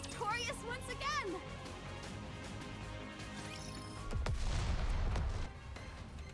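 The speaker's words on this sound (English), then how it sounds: "Explosion sounds from afar." Distant explosions rumble in the NIKKE video game, a low boom swelling in the second half over a musical score with bright melodic figures.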